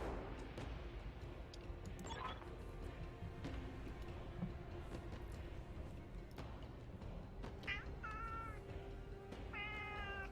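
A cat meows several times near the end, short rising calls over a steady low rumble of background noise with occasional thumps, faint and fairly distant.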